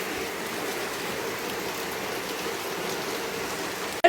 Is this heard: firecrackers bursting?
no